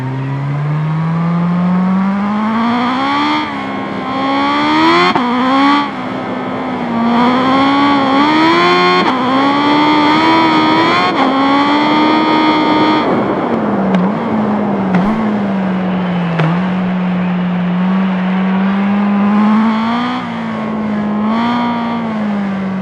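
A 2021 Kawasaki H2R track-only hyperbike in the RIDE racing game revs continuously and loudly, its engine pitch climbing and dropping through repeated gear changes.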